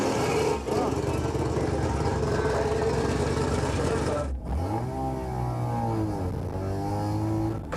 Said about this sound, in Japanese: ロータリーの乾いた音を響かせシャンテ発進。